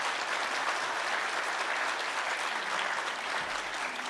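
Steady applause from a church assembly audience at a Presbyterian general assembly candidate forum in Seoul, dense and even throughout with no voices standing out.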